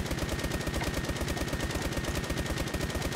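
Rapid automatic gunfire in S.K.I.L.L. Special Force 2, a team deathmatch on the Desert Camp map, with dense, evenly spaced bursts that run without a break the whole time.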